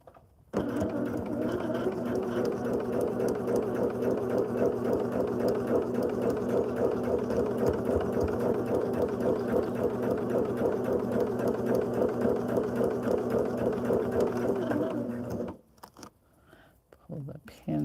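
A sewing machine stitches quilt sampler pieces in one long, steady, close run of rapid needle clatter, then stops near the end, leaving faint handling noises.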